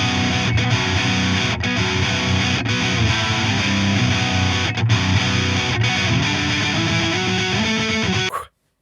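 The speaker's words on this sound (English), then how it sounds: "we'll do sort of the chorus riff with some distortion on. So this is on the red channel, and this is using the high gain," Distorted electric guitar chorus riff played through a Mesa Boogie Trem-O-Verb Dual Rectifier on its red high-gain channel in a modern high-gain setting, loud, dense and continuous with rhythmic chugging, ending abruptly.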